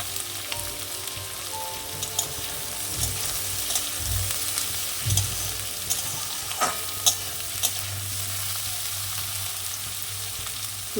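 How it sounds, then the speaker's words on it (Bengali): Potato and brinjal frying in a pan for a Bengali kalmi greens dish, a steady close sizzle with occasional scraping stir clicks and no talk. "এটাকে একটু টাইম নিয়ে ভালো ভাজা করবো"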